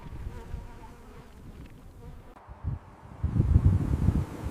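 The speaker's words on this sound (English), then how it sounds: "Herds move constantly to escape swarms of biting flies and mosquitoes." Swarms of biting flies and mosquitoes buzz continuously over Arctic tundra, a steady insect drone mixed with wind rumble that swells louder in the last second or so, with no voices.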